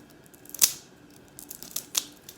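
A small saw blade cuts into the plastic packaging of an emerald dig kit, giving a few sharp snipping and scraping crackles, one louder near the start and two more later, in quiet surroundings.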